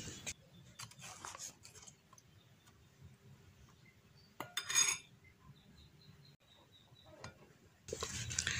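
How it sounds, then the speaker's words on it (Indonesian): Quiet, scattered clinks and scrapes of a utensil stirring a batter of wheat flour, rice flour and water in a bowl, coming in short bursts with pauses between. "Aduk-aduk terus sampai tidak ada tepung yang menggerindil"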